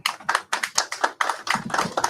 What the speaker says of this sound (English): Oh, your 3 supporters just clapped for you.